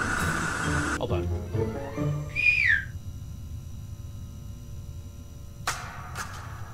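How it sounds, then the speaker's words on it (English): A person whistles a single short, rising and falling note in a horror video game setting, briefly heard between bursts of voices and rustling background noise. "Testing if it does come by whistling."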